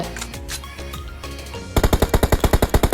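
Automatic weapon fire in the PUBG Mobile video game: after a stretch of busy game noise, a rapid, evenly spaced burst of loud shots rings out for over a second.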